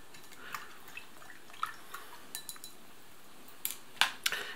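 Ration drink powder from an Indonesian police 24-hour ration is stirred into cold water, giving faint intermittent clinks and light splashes, with sharper taps near the end.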